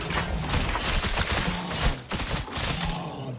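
Traps in Titan Quest 2 fire in a rapid, dense burst, shot after shot overlapping into a continuous clattering barrage with no talking.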